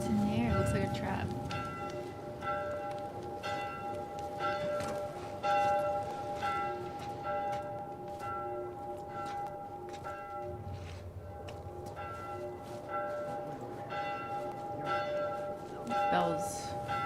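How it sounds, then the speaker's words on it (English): A church bell in The Last of Us rings steadily with sustained, overlapping tolls throughout, playing beneath game ambience and occasional talking. "Bell's really annoying."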